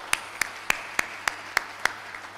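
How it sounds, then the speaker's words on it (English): An audience at a GLA University, Mathura HR conclave opening claps in unison, making seven sharp, evenly spaced claps about a third of a second apart. The claps are crisp and fairly loud over a quiet room. "I was told that GLA's people clap really well"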